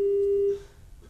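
A phone line tone on a TV call-in show: one clear steady electronic tone lasting about half a second that then cuts off, leaving faint room noise.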